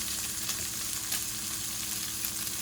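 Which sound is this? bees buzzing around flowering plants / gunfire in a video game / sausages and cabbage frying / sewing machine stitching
sausages and cabbage frying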